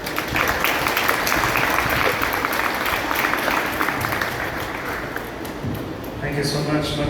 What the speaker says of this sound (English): Can we give a bigger round of applause to Mataji